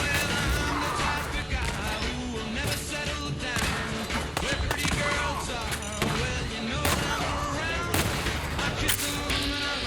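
Throwable grenade-type weapons from the Dak's Explosive Pack mod for the Fallout 4 video game burst in dense, loud, continuous succession, overlapping with heavy gunfire and combat noise throughout.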